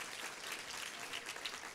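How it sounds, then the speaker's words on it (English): Audience at a Stanford Medicine alumni day giving a round of applause, a steady faint wash of clapping from a crowd in a hall. "let us recognize you with a round of applause"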